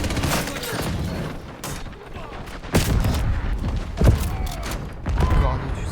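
Shotgun blasts in an online shooter video game fire in several loud, booming shots spread across the moment, mixed with someone talking in French.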